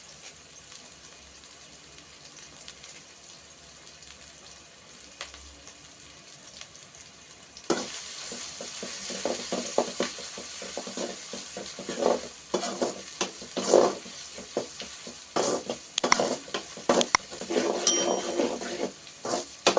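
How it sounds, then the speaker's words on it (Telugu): Curry leaves and ginger paste fry in a pan for a Telugu salted-fish curry, starting as a faint quiet hiss before a loud burst of sizzling and crackling erupts midway and continues steadily with sharp spattering pops and stirring scrapes. "దెబ్బలండి కరేపాకు ఇప్పుడు ఇది వేసేస్తున్నాం"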